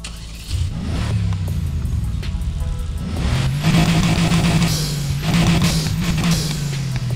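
A Mercedes GT 4.0 V8 in the Need for Speed Heat video game fires up in a garage, then settles into a deep, steady idle with a couple of revving swells, heard close and alone without talk.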